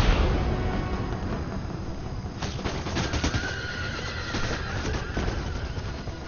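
Cavalry horses charging in the video game Empire: Total War, Napoleonic-era guard de corps horsemen, a dense rumbling mass of hooves with horse whinnies and distant battlefield gunfire, continuous throughout.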